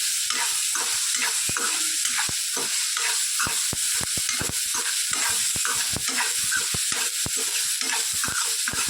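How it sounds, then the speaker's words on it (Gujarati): Vegetables sautéed in a pan with salt, a steady hiss of frying under repeated sharp clinks and scrapes of a spoon stirring, close and continuous with no voices. "સરસ બધું સોતે કરી દઈએ"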